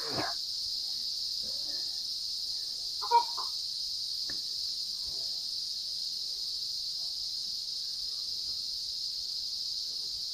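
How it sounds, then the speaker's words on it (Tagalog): A steady, continuous high-pitched drone of crickets overhead in a backyard at midday fills the background throughout, growing louder, with a few faint knocks and rustles scattered beneath it. "Yung tunog ng kuliglig."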